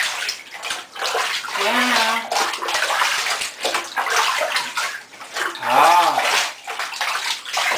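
A cat being rinsed with water in a bathtub, splashing and trickling water under soft talk, with a cat's brief meows rising near the start and middle.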